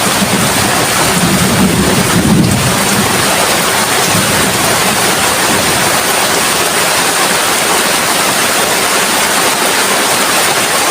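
Steady, dense hiss of rain falling continuously, loud and unbroken throughout.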